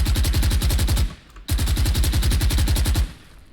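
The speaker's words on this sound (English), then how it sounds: "Now, even if I'm moving whilst firing at a walking speed, this recoil is still going to increase massively." Automatic weapon firing while the player walks in a first-person shooter: two long, loud, rapid bursts of evenly spaced shots, separated by a short pause and ending with a brief tail.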